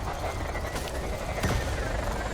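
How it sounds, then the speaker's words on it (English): Rapid-fire class 3 and class 4 multi-cannons fire from an Imperial Cutter in the space combat game Elite Dangerous. A dense, continuous stream of quick shots runs throughout, with a sharper burst near the middle. "the other multi-cannon is a class 4, and it has the rapid fire upgrade, which is why it's firing so fast"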